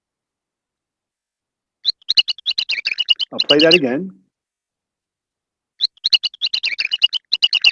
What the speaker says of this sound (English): mice have these ultrasonic vocalizations, particularly the males, that sound something like this